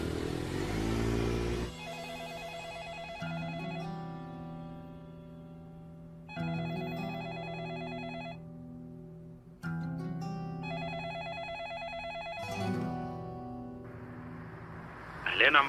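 A landline telephone rings unanswered in a TV drama, several long electronic ring bursts separated by short silences, loud and close, with a brief noisy rustle at the start.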